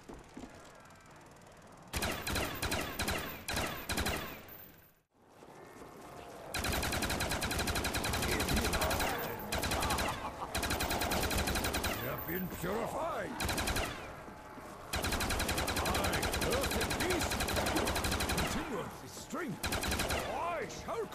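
Rapid bursts of light machine gun fire from an RPK in a zombies-mode video game, several long loud volleys separated by brief pauses.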